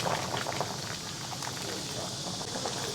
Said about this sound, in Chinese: 大火烧开，转小火，炖个40分钟，因为这个羊杂炖的越久越好吃。